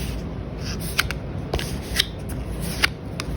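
Slippery, flexible tarot cards from a Neoteric Feminine Tarot deck are flicked and bent, giving a few sharp snaps over a soft steady rustle of paper.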